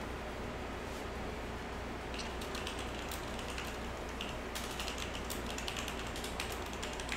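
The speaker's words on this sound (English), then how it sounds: "I just started typing because I'm really bad at writing and talking at the same time." Steady typing on a computer keyboard during an online video chat session, a faint continuous patter of key clicks that grows denser and busier in the second half, set against a constant background hiss with no voices.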